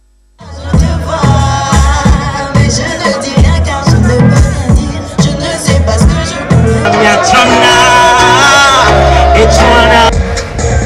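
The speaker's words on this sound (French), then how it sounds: "Des cris et des encouragements pour acquiescer le choix du jury." A concert audience at the final of a youth talent contest shouts, whoops and cheers loudly and continuously, a dense crowd roar with rising yells swelling toward the end.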